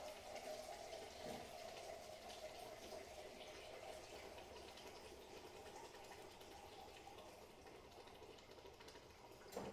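Water pours into a can while cooking spaghetti, a steady faint trickling and filling sound with a slight hollow ring, close by and continuing throughout.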